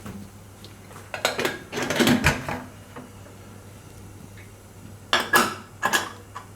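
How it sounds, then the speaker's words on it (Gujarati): Lid of a pressure cooker being closed in a home kitchen while making kodri khichdi, with a few sharp metallic clanks and scrapes in short bursts over a quiet low hum, close by and fairly loud. "હવે કુકરને બંધ કરી દે હું આપણે."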